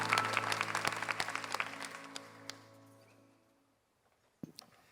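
Applause from a church young-adult congregation closing a new-member blessing service, a dense clapping wash that fades out over three seconds, followed by silence and one short sharp knock near the end.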